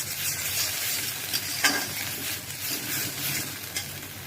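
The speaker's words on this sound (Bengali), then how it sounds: "এখন খুব সুন্দর করে ভাজা ভাজা করে নেব।" Gourd leaves fry in a pan with spicy seasoning, giving a steady close sizzle broken by occasional scraping stirs of a spoon against the pan.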